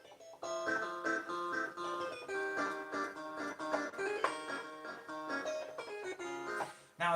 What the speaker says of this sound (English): So again, a clav sounds like this.